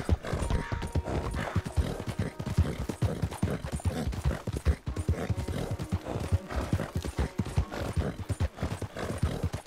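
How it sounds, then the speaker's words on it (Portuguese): Horses clip-clop in the Red Dead video game, a dense, steady run of hoofbeats from several animals trotting together, loud and continuous throughout. "Olha os cavalinhos."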